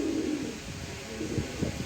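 Pigeons, a pair of grizzle birds, coo close by in soft, low, repeated murmurs that rise and fall continuously without any talking.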